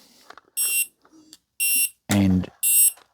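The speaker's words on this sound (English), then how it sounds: "a buzz and an alarm. So I think the idea is to condition your child when bedwetting happens, that an alarm goes off" A children's bedwetting alarm sounds loud repeated electronic buzzes, four bursts of roughly a quarter second each in an uneven rhythm, with a brief voice heard between them.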